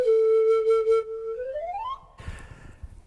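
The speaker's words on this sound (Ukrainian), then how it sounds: "принцип видобування звуку як флейти, тобто дуєш як в бутилочку, в дирочку, без е, мунштука і без свистка" An end-blown flute, played by blowing across an open hole without mouthpiece or whistle, holds a steady breathy tone, then glides upward in pitch and cuts off. Brief rustling and room noise follow, all heard close up.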